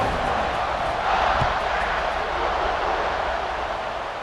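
Stadium crowd at kickoff in the college football video game EA Sports College Football 26, a loud, steady roar of cheering that swells slightly around the middle and holds throughout with no talk.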